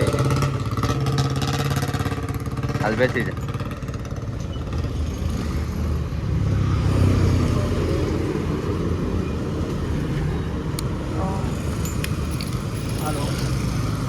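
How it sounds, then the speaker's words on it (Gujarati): A motorbike rides along a road in Una town, its engine a steady close drone with road rumble throughout while a person speaks briefly over it. "નીકળીએ આપણી બાઇક લઈને."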